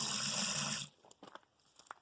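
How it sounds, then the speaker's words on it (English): Water gushing steadily into a bucket, loud and close, cutting off abruptly after under a second, followed by faint drips and small knocks. "Add a little bit more water to the bucket."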